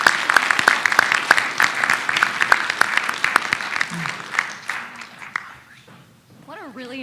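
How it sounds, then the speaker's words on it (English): Applause from a conference audience for a panel of speakers at a plenary session, with sharp individual claps over a crowd wash that thins out and fades, ending in quiet with a voice beginning to talk. "please give our panelists a round of applause"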